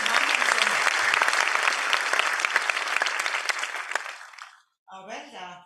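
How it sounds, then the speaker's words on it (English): An audience at an institute launch event in Pune gives a loud, dense round of applause that fades out, then a voice starts speaking alone. "A round of applause for Shubhangi and Somen."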